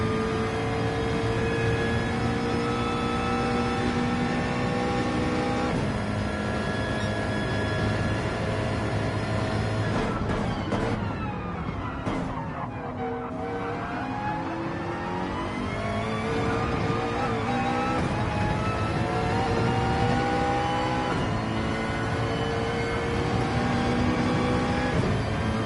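Onboard engine of a McLaren race car during a Sao Paulo four-hour endurance round: a loud, steady, high-pitched drone that rises and falls with throttle and gear changes, including a brief lift and dip midway, with no voices.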